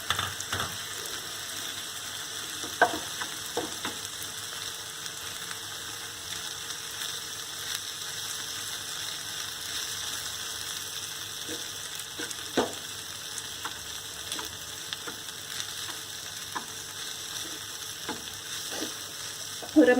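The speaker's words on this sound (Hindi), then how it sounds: "और अब मैं इसमें पोहा भी डाल दूँगी।" Poha frying in a hot pan with amchur powder, a steady sizzle running throughout while a spoon scrapes and stirs at scattered moments, close and alone with no voices.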